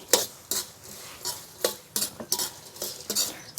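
Dung beetles dry-roasted with seasoning powder and salt are stirred in a pan, producing about ten rhythmic bursts of rattling, scraping clatter with short quieter gaps between strokes, close and moderately loud, without speech.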